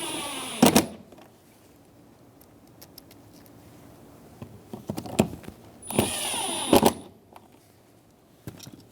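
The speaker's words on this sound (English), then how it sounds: "Install the screws for the handle." A power driver whirs in two short, sharp bursts, driving screws into the interior door handle of a 2000-2007 Ford Focus, with quiet handling clicks between bursts.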